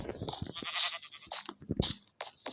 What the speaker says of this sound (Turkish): Getir koyunları.